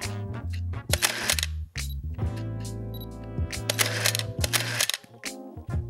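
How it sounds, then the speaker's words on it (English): Shutter of a new medium format camera firing repeatedly, a series of sharp mechanical clicks and clacks in uneven rhythm, close and crisp with no talk. "That shutter sound."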